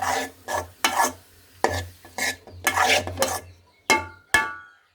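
A spatula stirs an egg stir-fry (egg poriyal) in a pan, giving a series of short scraping and clinking strokes in uneven bursts, fairly close and clear with no talking.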